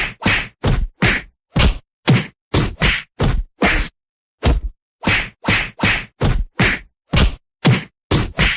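Sharp, punchy fight sound effects of blows landing, a rapid irregular series of loud whacks and smacks with brief pauses, heard alone without talk.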